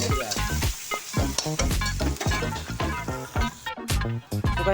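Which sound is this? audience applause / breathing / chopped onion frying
chopped onion frying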